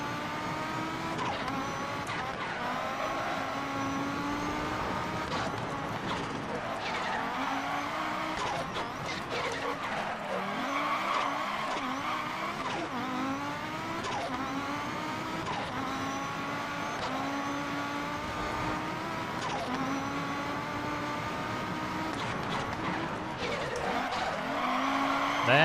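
Rally car in the Pikes Peak hill-climb sim, its engine revving and dropping in wavering harmonic sweeps while tires scrub and skid, loud and continuous for the whole stretch.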